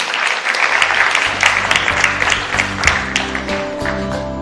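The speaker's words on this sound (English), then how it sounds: "A huge round of applause, ladies and gentlemen, for Ms. Nivruti Rai." Audience applause at a digital technology summit in India, a sustained, dense round of clapping from a large crowd that stays steady throughout with faint tonal music underneath toward the end.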